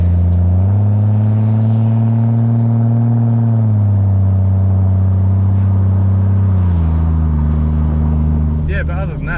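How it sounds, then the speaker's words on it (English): A car fitted with an X-Force exhaust drones steadily as it drives, its low engine note rising and falling with small throttle changes, and voices talk over it near the end. "The X-Force exhaust sounds really nice."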